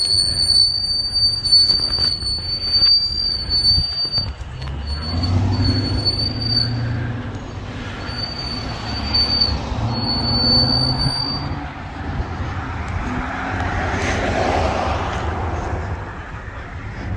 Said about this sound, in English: Your brakes are awful.